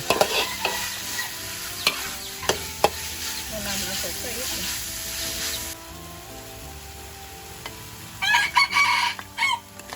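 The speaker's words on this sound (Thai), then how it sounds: "โอ้ผมรำคาญเสียงไก่มากเลยครับผม" Pork and chilies stir-fry in a pan with constant sizzling and utensil scrapes, while a rooster crows nearby partway through, followed by a quieter stretch and a final burst of louder scraping.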